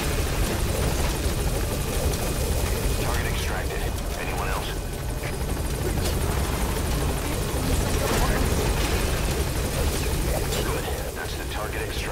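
A helicopter in a video game, its rotor making a continuous loud chop and whir that fills the whole stretch with little change.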